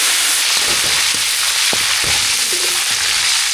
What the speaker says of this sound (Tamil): கடுகு நல்லா பிரிஞ்சிச்சு கருவேப்பிலை சேர்த்துக்கலாம்